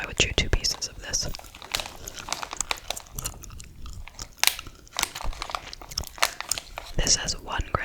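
Close-up chewing of two pieces of Dollar Tree gum with a crunchy shell: wet crunches and bites, then squishy mastication sounds, mixed with soft whispering.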